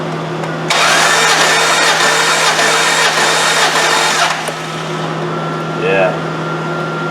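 A Dodge 4.7 V8 cranks at wide open throttle during a compression test, a loud steady whirring starter drone that runs for several seconds and then cuts off, with a voice briefly heard afterward.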